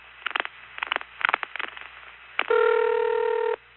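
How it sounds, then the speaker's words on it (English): Multi-frequency tones keyed into an NX1 telephone switch at a 1974 central office test board: a quick series of short beeping tone bursts, then one longer steady tone lasting about a second, over faint line hiss. "you can actually hear someone dialing numbers, not with the touch tones, but with the multi-frequency tones that were used in the network"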